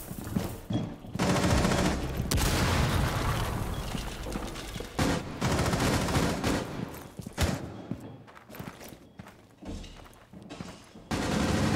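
Rapid machine-gun bursts and single shots in a video game, loud and close, coming in clustered volleys with brief gaps between them and almost no talking.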